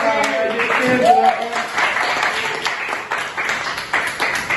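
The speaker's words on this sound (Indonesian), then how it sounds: "aplaus semuanya" Classroom applause as a group of students clap together for the top-scoring student during a teaching practice session, a steady dense patter lasting several seconds with chatter mixed in.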